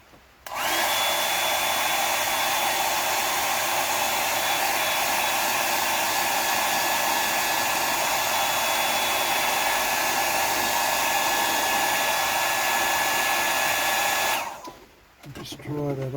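Hair dryer blowing on a painting, a steady close whirring hiss that starts abruptly, holds evenly for about fourteen seconds, then cuts off.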